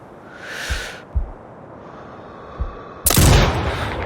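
Sniper rifle shots in Sniper Ghost Warrior Contracts 2 ring out as a few sharp, separated thumps, ending in one loud close blast followed by a lingering echoing tail.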